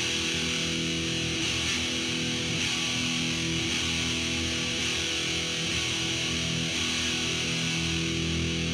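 Power chord rung out on a heavily distorted electric guitar in a heavy metal style, a thick, continuous, saturated roar held steady at loud level across the whole stretch, with no talking over it.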